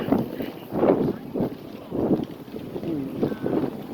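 Gusty wind buffeting an outdoor market in uneven low rumbling bursts, close and loud, with no clear talk.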